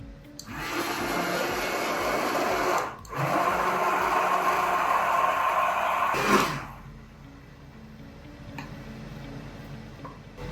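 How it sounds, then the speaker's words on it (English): A loud, steady electric motor whir from a handheld immersion blender mixing egg into mayonnaise runs for about six seconds with a brief dip partway, then cuts off, leaving a quiet background. "now we have an immersion blender. We're going to put it right over top the egg, turn it on"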